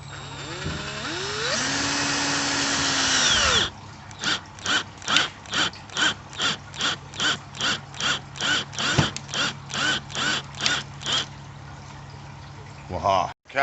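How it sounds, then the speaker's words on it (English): A drill drives a screw into a wooden beam to pin it against plasterboard. A steady close whir gives way to a long run of evenly spaced, ratcheting bursts before the drill cuts off. "I'm going to put another screw in this beam here to hold it more firm onto the plasterboard"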